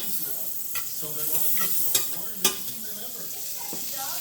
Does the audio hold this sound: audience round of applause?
no